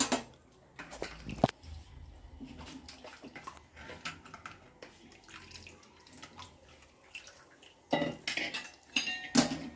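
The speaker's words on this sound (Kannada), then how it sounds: "ರುಬ್ಬಿರೋ ಮಸಾಲಾನ ನೀರಾಕಿ ತೊಳೆದು ಅದಕ್ಕೆ ಹಾಕ್ತಿದ್ದೀನಿ" Ground masala jar rinsed out with water and poured into a cooking pot for egg biryani, with clinking of the jar against metal, splashing water and clattering dishes, louder bursts at the start and end, and no talk.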